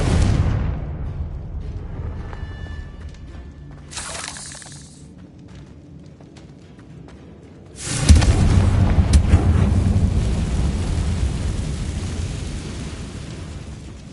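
A Confringo fire spell exploding in the video game Hogwarts Legacy: a low, rumbling game soundscape, then a sudden loud blast with a broad, crackling roar that holds steady for several seconds, no talk.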